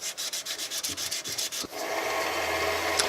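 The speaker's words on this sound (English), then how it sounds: "in between grits I'll go across it like this to try and take off some of the circular sanding marks" Quick rhythmic strokes of sandpaper rubbing back and forth across a tablet stylus pen, then a steadier continuous scratchy sanding close by.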